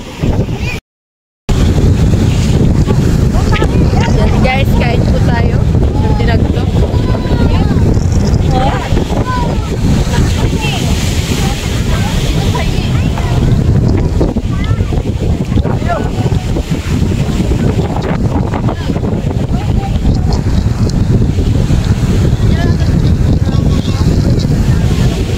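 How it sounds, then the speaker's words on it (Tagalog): Strong sea waves at a beach, with heavy wind buffeting the microphone throughout; a loud, continuous roar of surf and gusts, with voices faintly in the mix. "Sobra pong lakas ng alon ho ah."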